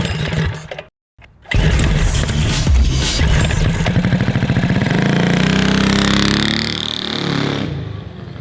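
A homemade 1.7-liter V8 built from eight Tillotson 212cc go-kart engines and mounted on a go-kart, fitted with a NASCAR-style exhaust, cuts out briefly, then fires up and runs loud and steady with a rising, droning rev near the mic.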